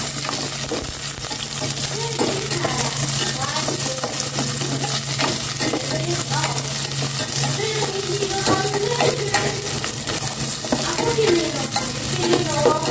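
Onion, ginger and chili sautéing in a pan with a steady loud sizzle and repeated stirring scrapes throughout.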